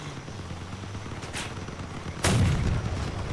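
A cannon fires in the vehicle combat game Crossout, a sharp booming blast over steady engine rumble, preceded by a fainter distant shot.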